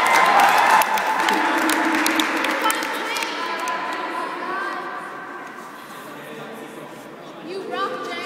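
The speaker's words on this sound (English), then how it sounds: "You can cheer them on, guys." Students at a Dublin school fitness challenge clap and cheer as a crowd, loud at first then easing into steady applause with chatter, swelling again briefly at the end.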